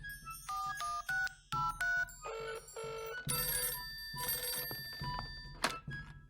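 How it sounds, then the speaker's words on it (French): A cartoon telephone rings in a series of short, bright electronic trills, then a louder, busier ringing burst, close and clear with no talk. "Je vais appeler d'autres elfes à la rescousse."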